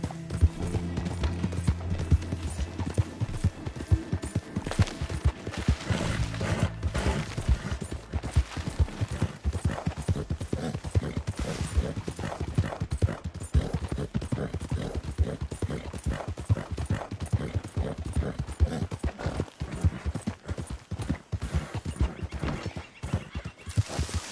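Horse hooves clip-clop steadily in Red Dead Redemption 2, a dense rapid galloping patter that carries loud and continuous throughout with the horse's movement, no speech over it.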